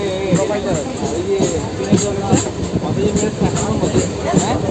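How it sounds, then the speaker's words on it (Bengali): A Mecheda–Digha local train rolls into a station with rhythmic wheel clatter and a rumbling carriage under a steady babble of passengers' voices. "আমাদের ট্রেন কাঁচি স্টেশনে প্রবেশ করছে"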